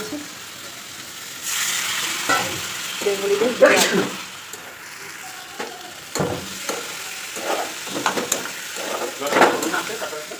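Boiled jackfruit sizzling and frying in a pan, with stirring clatter and intermittent talking over the steady hiss.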